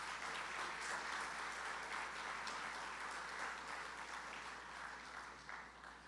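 Audience applause for a young team after their presentation at the Pearly app launch, a sustained, even patter of many hands that holds for about six seconds and tapers slightly near the end.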